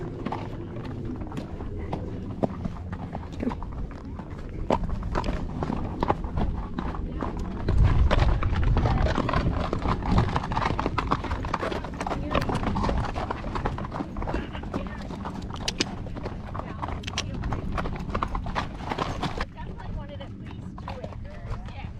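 Hooves clip-clop steadily as a horse is ridden on a trail ride in the Superstition Mountains, continuous close footfalls with occasional voices speaking over them.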